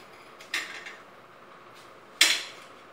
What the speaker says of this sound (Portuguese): Tá picando aqui.